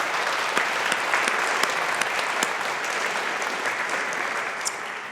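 A university audience at a Strathclyde Business School event applauds its staff: steady, dense clapping from a large crowd, close and even, with a few sharper claps standing out and no voices over it.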